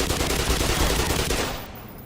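An SMG in Black Mesa fires a loud, sustained rapid burst that cuts off near the end, leaving a brief fading tail.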